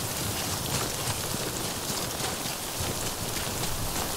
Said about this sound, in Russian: И получается, что дождь на одном месте стоит.